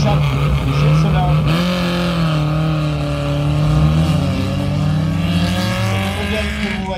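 A CG car, built by Chappe et Gessalin and driven by Daniel Thiel, runs up a historic hill climb at Saacy-sur-Marne. Its engine note climbs and shifts in pitch, loud and close, then settles into a steady drone.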